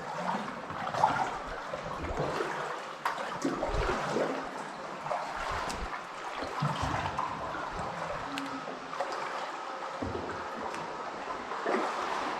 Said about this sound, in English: I hear water trickling in.